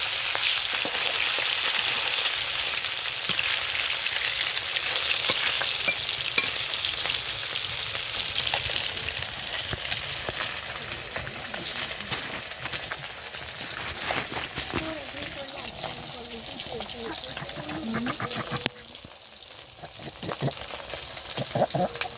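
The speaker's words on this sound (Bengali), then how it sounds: "মাছ ভেজে দেবো, একটু ভাজতে দাও" Rui fish pieces fry in hot oil with a loud, dense crackling hiss that fades somewhat over time, with brief utensil clinks and voices at times in the background.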